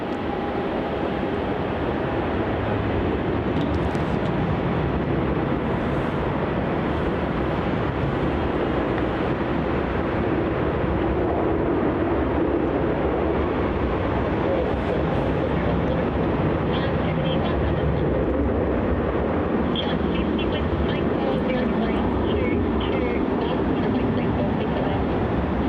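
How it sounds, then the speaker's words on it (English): Virgin Australia Boeing 737-800 taking off from runway 34 at Melbourne Airport, a steady broad jet roar filling the whole stretch, with people talking over it. "turning and burning onto runway 34 now, we have the Virgin Australia 737-800"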